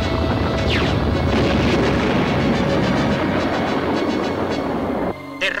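A cartoon target blows apart in a sustained, roaring explosion that rumbles loudly for several seconds before cutting off abruptly into a ringing tail.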